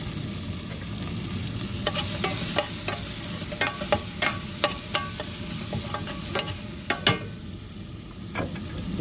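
Spinach with chana dal and kuzhambu masala is stirred in a hot pan. A continuous frying sizzle runs under repeated sharp clicks and scrapes of the spoon against the pan.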